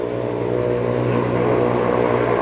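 A steady motorcycle engine drone with a rising rev, close and loud, running continuously without any voices.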